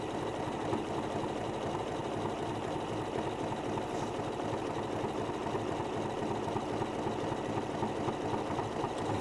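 A domestic sewing machine runs steadily at speed while stitching appliqué on a Moda Warm Winter Wishes house quilt, its continuous mechanical whir and rapid needle chatter filling the whole stretch without pause.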